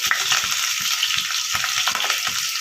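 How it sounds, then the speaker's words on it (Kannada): Onion, green chillies and curry leaves sauté in hot oil with ginger and garlic for tomato rice bath, a steady close sizzle broken by soft scraping stirs, with no one speaking. "ಸ್ವಲ್ಪ ಎಣ್ಣೆಯಲ್ಲಿ ಅದನ್ನು ಬಾಡಿಸ್ಕೋಬೇಕು"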